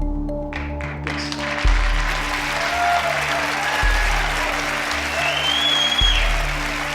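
A television game-show studio audience claps loudly and steadily for several seconds, a dense, sustained wash of applause with faint low thumps underneath.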